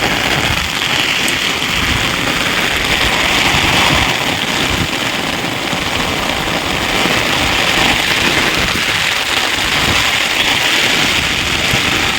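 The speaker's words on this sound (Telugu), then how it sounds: "ఈరోజు మాత్రం రచ్చ రచ్చ అయిపోతుంది వర్షం మాత్రం" Heavy rain pours down at night in a dense, unbroken roar of drops that stays loud and constant throughout, with no voices.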